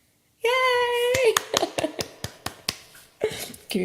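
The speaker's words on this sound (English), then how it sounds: "Giving myself a round of applause because I can't hear you applauding for me" A single woman claps her own hands in a quick run of about a dozen sharp, close claps, right after a sung note ends, with a brief spoken word at the close.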